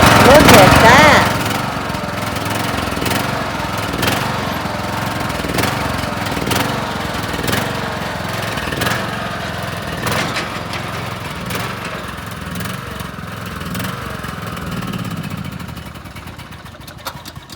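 A secondhand riding lawn mower that needed carburetor work and rewiring starts with a loud burst, then runs steadily at a close engine chug that fades slightly near the end. People talk over it.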